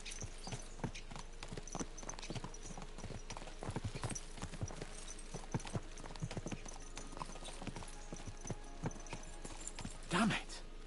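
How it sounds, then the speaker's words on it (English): Horses galloping in the video game Kingdom Come Deliverance 2, a steady drumming of hooves close by, with a brief louder burst near the end and someone talking over it. "Let's really spur these horses on, eh?"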